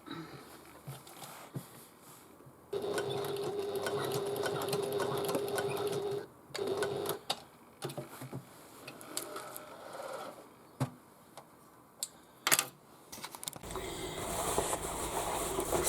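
A sewing machine stitches around a leather bag, its steady mechanical whirr running in bursts with short pauses between passes and some handling clicks, fairly close and loud.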